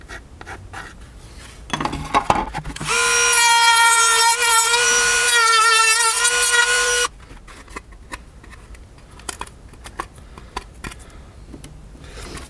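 A Dremel rotary tool cuts across plastic interior trim on a 2017 Nissan Pathfinder, a steady high-pitched whine with a sliding pitch that runs for about four seconds, close and loud, between quieter handling clicks.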